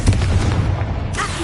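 Confringo explosive spell blast in Hogwarts Legacy, a loud booming burst filling the moment with a rumbling low end, followed by a brief higher crackle as it fades.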